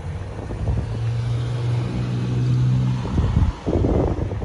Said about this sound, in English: This is a police officer pulling up to us right now with a gray vehicle.